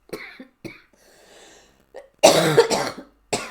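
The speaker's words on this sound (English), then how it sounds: "I'm just going to switch the mic off and have a good old cough." Several coughs close to the mic, a few short ones followed by a louder, harsher burst, with a throat-clearing quality.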